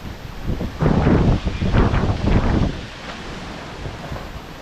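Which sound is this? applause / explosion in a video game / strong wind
strong wind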